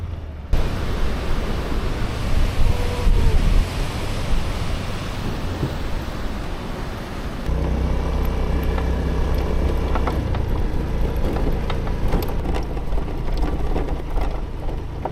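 Continuous rough rattling and rumbling of a scooter with weak suspension bumping over a potholed road, loud and close, shifting character midway.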